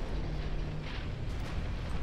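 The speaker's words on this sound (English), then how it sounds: "Torpedo hit on the Alabama." A torpedo striking a warship in the naval strategy game Ultimate Admiral Dreadnoughts produces a dense, roaring explosion that rumbles loudly and continuously with no pause.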